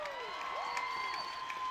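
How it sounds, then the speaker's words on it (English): Rally crowd at a Palestine solidarity demonstration applauding and cheering, with a steady dense wash of clapping and scattered whoops and shouts, moderately distant and continuous throughout. "So give yourselves a round of applause."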